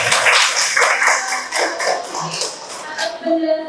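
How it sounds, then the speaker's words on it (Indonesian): Classroom applause during a Pancasila lesson, with students clapping in uneven bursts close by, mixed with chatter and voices throughout and a sustained tone near the end. "Ini tepuk tangan buat Wahid"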